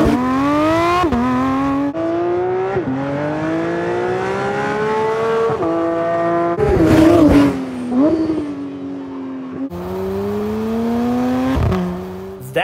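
Porsche 911 GT3 with a 4-litre RSR race-derived flat-six revving toward 9,000 RPM, climbing repeatedly in loud, close rising sweeps with brief drops between each rev, running alone throughout.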